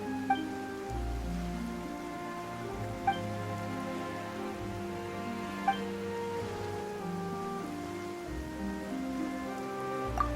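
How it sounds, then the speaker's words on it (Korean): Sudden rain falls as a steady, dense patter with occasional sharper drops, loud and continuous and with no voices. "갑자기 비가 오네."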